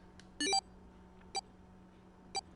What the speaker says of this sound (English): The moment they did, their bracelets beeped.